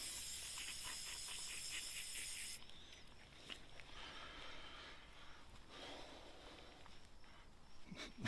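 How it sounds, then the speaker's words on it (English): Water sprays and hisses onto the exhaust tip of a 2016 Audi S3, loud and steady at first, then thinning into softer intermittent splashing and dripping. "Give it a little rinse here."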